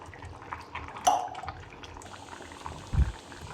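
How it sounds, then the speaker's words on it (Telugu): Rice boiling in a pot makes a quiet, soft bubbling close by, with a light clink partway through and a brief low bump near the end. "ఇక్కడ రైస్ అయితే ఉడుకుతూ ఉంది కదండి"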